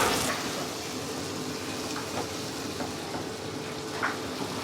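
Steady sizzling of mushrooms frying in butter in a pan, a continuous crackling hiss with a few soft clicks, close and moderately loud, no talking.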